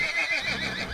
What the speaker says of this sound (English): Without warning, the horses reared and whinnied,